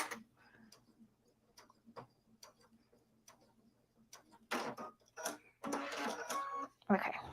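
A sewing machine running a back stitch, starting with sparse light ticks of the needle, then turning into louder dense bursts of mechanical whirring and clatter, close by, with a voice speaking near the start.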